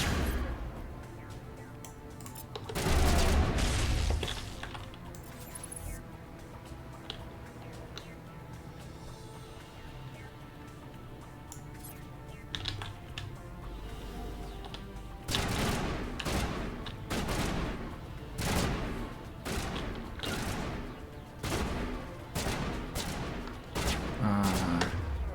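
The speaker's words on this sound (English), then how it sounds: "I think I just shot Ashley right in the head." Video game gunfire in Mass Effect: dense rapid bursts of shots rattle loudly, with a heavy volley early, a steadier stretch of scattered fire, then a long run of sharp repeated bursts.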